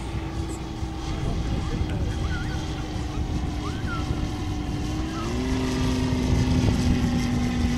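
A 1/3-scale Stearman model biplane with a five-cylinder radial engine drones overhead at an air show, its steady engine tone shifting upward in pitch, accompanied by a thin airy whistle from its flying wires.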